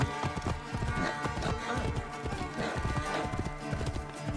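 Rhythmic clip-clop of horse hooves in the video game Assassin's Creed Origins, close and steady, with a horse whinnying partway through.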